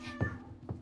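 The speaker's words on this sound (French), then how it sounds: "Mais c'était le chat de Lavinia." A house cat with a nasty ear infection gives two short, soft meows about half a second apart, quiet and close, over a faint low room hum with no speech.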